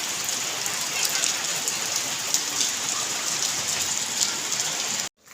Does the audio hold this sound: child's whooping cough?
no